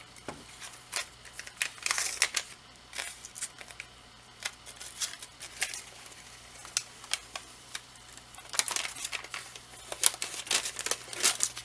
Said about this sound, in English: You can just peel it.